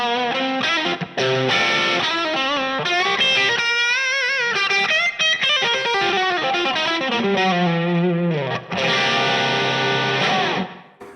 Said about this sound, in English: we're going to go to another classic amp, the Marshall 800 series